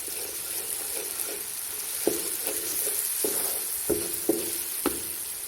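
Spiced potato masala for aloo moongry sizzles steadily in a pan on the stove, a constant frying hiss punctuated by several sharp clacks of a spoon stirring against the pan.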